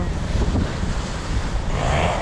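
Sea waves and strong wind at a seaside swimming spot in Amlan, Negros Oriental, Philippines, a steady roar of surf with heavy wind buffeting the microphone throughout.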